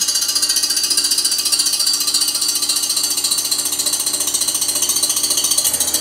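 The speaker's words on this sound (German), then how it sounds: "wie aufwendig das ist, so eine Spindeleinheit zu schleifen" A lawn mower reel spindle unit is ground on a grinding machine, giving a steady, loud, continuous mechanical whir and rapid rattling chatter with a high metallic hiss, unbroken for the whole stretch with no talk.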